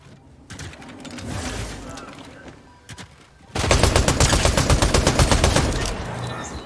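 Rapid automatic gunfire in the Fortnite video game, a steady crackling burst running through the second half after scattered softer shots and game noise.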